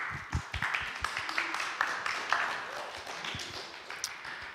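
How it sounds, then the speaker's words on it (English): A small audience gives a speaker a round of applause, a loose scatter of distinct individual claps rather than a dense roar, with sharp hand strikes standing out from the quieter background clapping. "So can we give Miles a round of applause?"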